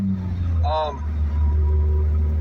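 A steady low car engine drone runs throughout, with a brief rise in pitch like a quick rev partway through.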